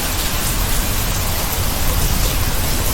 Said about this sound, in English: The rain sounds beautiful